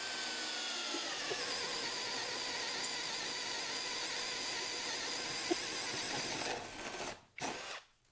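A WORX Switchdriver 2.0 WX177.9 20V cordless drill bores with a 32 mm spade bit, giving a loud, continuous high-pitched whine and grind that cuts off abruptly near the end.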